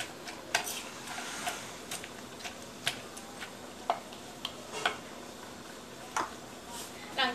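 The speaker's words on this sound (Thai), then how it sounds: "แล้วก็ตำให้เข้ากันเลยนะคะ" Beans and seasoning pounded in a mortar, heard as sharp, irregular knocks of the pestle, about a dozen over several seconds, fairly faint against quiet room background.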